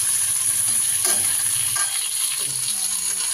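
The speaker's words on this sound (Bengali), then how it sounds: "ভেজে নিচ্ছি" Onion and panch phoron fry in hot oil in a pan, giving a steady, close, even sizzling hiss with faint stirring scrapes throughout.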